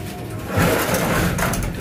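Pigeons cooing in a pigeon loft, close and fairly loud over a dense, rustling background, with no talking.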